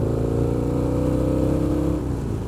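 A 2003 Harley-Davidson XR1200 Sportster engine drones loud and close while riding, its pitch dropping as the rider downshifts through the gears.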